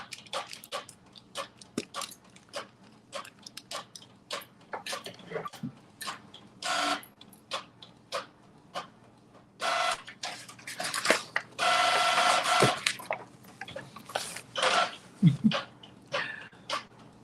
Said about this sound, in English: you hear my printer in the background